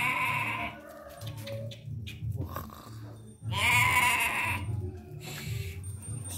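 Garut sheep bleating up close, several loud drawn-out bleats in a row, one long strained call in the middle, with farm background noise around them.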